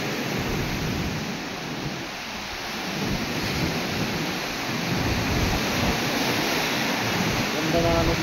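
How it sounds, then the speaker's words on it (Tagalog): Large ocean waves surge and crash along a shore in a continuous loud wash of roaring surf, swelling and easing over time. "Yan, napakalaki yung mga alon"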